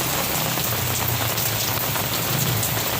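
Heavy rain pouring down, a dense, loud, steady patter drumming on a surface close by, with no voices.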